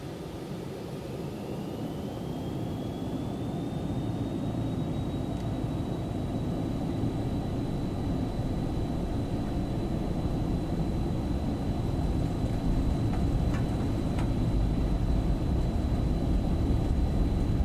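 Twin jet engines of an Aerobask Phenom 300 in the X-Plane 12 flight simulator spool up, a rising whine that settles into a steady high tone over a loud, constant roar, with no talking.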